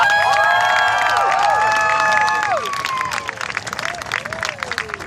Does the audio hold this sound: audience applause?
yes